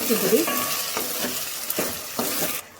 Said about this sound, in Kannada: ಹಾಗೆಯೇ ಎರಡು ನಿಮಿಷ ಟೊಮೊಟೊನ ಸಾಫ್ಟ್ ಆಗೋ